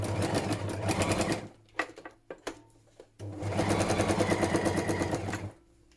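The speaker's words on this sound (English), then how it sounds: "And now that I'm at the end, I'm going to back stitch a bit." A sewing machine back stitches at the end of a seam in a grungy junk journal, running in two steady whirring bursts separated by a short pause filled with light clicks and handling taps.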